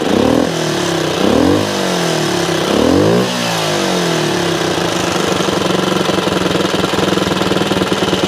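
A 1964 Honda CT90 motorcycle engine revs up in three rising bursts, then settles into a steady, slightly rough idle. It is close and loud, with no talk.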